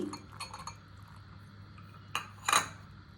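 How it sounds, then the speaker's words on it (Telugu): A few faint spoon-against-bowl clinks while beaten egg is mixed with chopped onion, green chilli and coriander for a bread omelette. Two brief, brighter taps come near the end over a quiet background. "ఇలా బీట్ చేసుకున్న ఎగ్లో తర్వాత మనం సన్నగా కోసి పెట్టుకున్న ఉల్లిపాయలు, పచ్చిమిర్చి, కొత్తిమీర అన్నీ వేసుకొని కలుపుకోవాలి"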